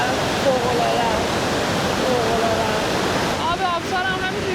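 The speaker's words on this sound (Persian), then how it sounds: "آب آبشار هم همینجوری میخوره به صورتت و بدنت" The Devil's Throat at Iguazu Falls, on the Argentina side, roars as a loud, continuous rush of falling water that fills the whole clip, with faint voices briefly audible over it.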